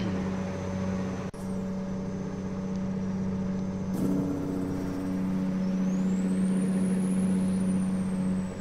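Truck engine in American Truck Simulator, a steady low idle drone with a sharp air-brake hiss and click early on, then the engine settling into a firmer, louder hum that holds to the end.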